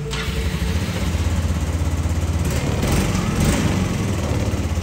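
Red and black motorcycle with an original, unmodified engine idling up close, a steady low throbbing putter with even firing pulses and no speech.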